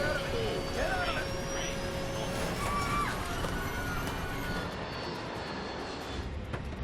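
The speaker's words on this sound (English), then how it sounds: "There's an aircraft crashing. Airplane going down." A jet airliner roars loudly and continuously overhead as it goes down in a crash, with a broad engine rumble and whine filling the scene, under urgent shouting voices.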